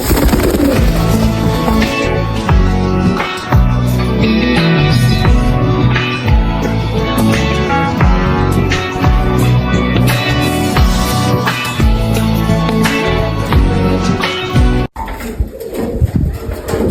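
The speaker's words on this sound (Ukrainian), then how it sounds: "Беленькая молодая тоже голубочка." Young white pigeons cooing continuously and loudly at close range for a long stretch, layered with rhythmic clicks and knocking, dropping off briefly near the end.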